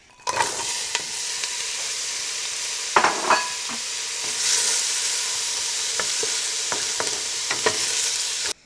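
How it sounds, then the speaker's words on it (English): Onions sautéing in hot oil in a pan give a steady close sizzle, broken by scattered sharp spatula clicks and scrapes against the pan. "Heating the oil in the pan and then putting those onions in to saute for 5 to 6 minutes till they turn, translucent."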